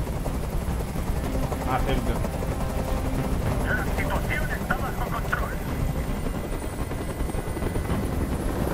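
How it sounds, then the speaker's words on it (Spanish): Helicopter rotor noise in the video game Detroit: Become Human, a steady loud drone filling the whole scene with faint sharp bursts mixed in, while a voice speaks briefly over it. "¡Dile a ese helicóptero que se vaya de aquí!"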